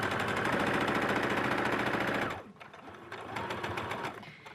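A sewing machine runs in a fast, steady stitching drone while quilt binding strips are fed through, stopping abruptly partway and giving way to quieter handling of the fabric.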